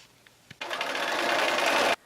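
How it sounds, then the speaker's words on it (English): A sewing machine runs steadily for over a second, stitching quilt fabric with a 1/4-inch seam and a rapid mechanical whir, after a few faint taps. "take these over to my sewing machine and sew with a 1/4-inch seam allowance"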